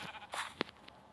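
A sheep bleats in a video game, one short nasal bleat followed by a sharp click-like blip, heard alone and fairly close.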